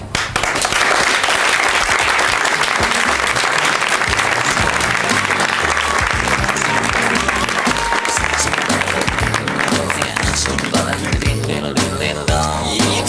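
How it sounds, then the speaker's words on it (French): An audience breaks into loud, sustained applause for the team behind a sled-dog racing story, dense clapping that runs continuously with a few louder individual claps and faint crowd murmur. "Vous avez droit, enfin tous, à nos applaudissements"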